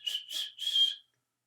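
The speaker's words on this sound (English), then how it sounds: "I whistled." Three short, clear whistled notes in quick succession, close and bright, then silence.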